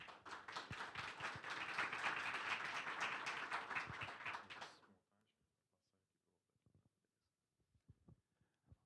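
An audience at a corporate tech event claps in a dense burst for about five seconds, then falls quiet except for a few faint shuffles and taps.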